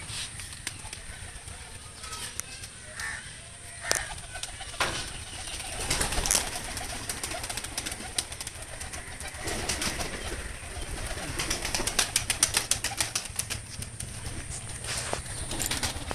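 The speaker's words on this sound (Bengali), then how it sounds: "ওদের দেওয়ার সাথে সাথেই প্রতিটা কবুতর এক এক করে নিচে নামছে এবং খাচ্ছে" Pigeons gather to eat flour roti, soft cooing mixed with bursts of wing flapping and fluttering as they land, moderately near and fairly quiet, with no talk.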